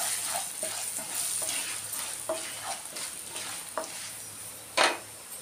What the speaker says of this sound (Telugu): పసుపు 1/2 టేబుల్ స్పూన్ వేసుకుందాం. వేసుకుని ఒకసారి బాగా కలిపేద్దాం.